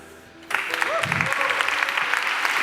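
An audience at a business talk bursts into steady applause that starts abruptly and keeps going, a dense wash of many hands clapping, with a brief voice over it.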